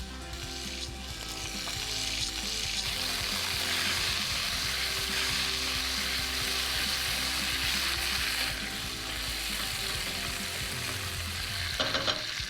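Curry leaves fry in hot oil in a pan for Bombay potatoes, giving a steady, dense sizzle and crackle close up that holds throughout, with a brief stirring clatter near the end.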